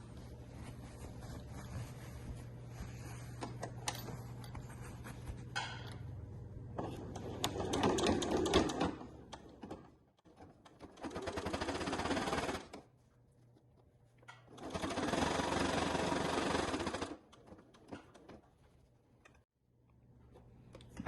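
A sewing machine stitches a zipper onto a family-size beach bag in short, quiet runs of mechanical whirring separated by pauses. Handling noises fill the gaps.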